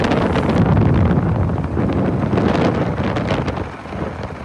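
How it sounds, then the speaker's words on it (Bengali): Strong wind buffets the microphone over the rough Padma river in Bangladesh after a night storm, a loud, continuous roar that gusts throughout with no talking. "বাতাস বইছে তীব্র বেগে"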